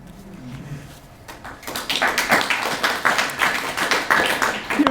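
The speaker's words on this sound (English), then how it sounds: "You don't have to clap, unless you feel like it" An audience clapping at a poetry reading in a library, starting as a few scattered claps and swelling into steady applause, moderately loud and fairly close.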